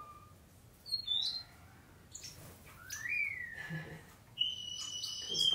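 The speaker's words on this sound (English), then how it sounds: "singing away. That's the lavender finch." Lavender finch singing in an aviary: a few bright, thin whistled chirps and rising tweets come in short bursts over quiet background rustle, with a longer, steadier whistled phrase near the end.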